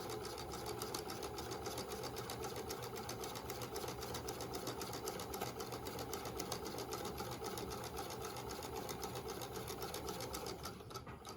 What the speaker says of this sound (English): we are going to sew down through the folded seam allowance